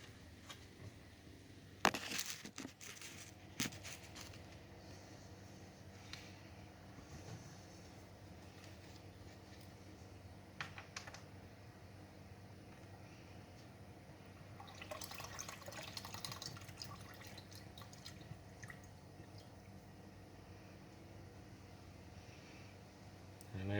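Gasoline poured from a container into another container while cleaning the fuel injectors of a Mustang. Faint trickling and dripping mix with occasional clanks and handling noise over a quiet background.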